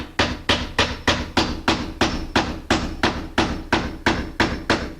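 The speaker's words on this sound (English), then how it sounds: "Now we're going to put a nail in there" A hammer drives a nail through a shim into split-jamb door trim, about fourteen sharp, evenly spaced strikes ringing out close and loud in a steady rhythm.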